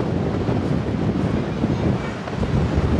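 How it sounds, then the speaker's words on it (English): Strong wind buffets the microphone on the windy second level of Blackpool Tower, a steady, loud rumbling roar lasting the whole few seconds. "We're now on the second level, which is so windy."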